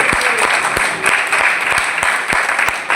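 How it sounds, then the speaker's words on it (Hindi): A church congregation at a Punjabi service claps loudly and continuously, dense hand claps under a bright wash of crowd noise, with a few sharp louder slaps standing out. "जोर से ताली बजाओ प्रभु के लिए।"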